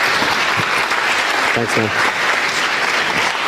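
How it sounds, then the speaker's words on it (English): Conference audience applauds steadily and loudly throughout, with a man's brief thanks spoken over the clapping. "Please, an applause."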